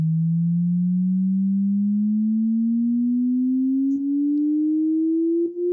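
Pure test tone in an acoustics demo, a single steady sine sweeping slowly and smoothly upward in pitch for several seconds, clear and continuous with no talking.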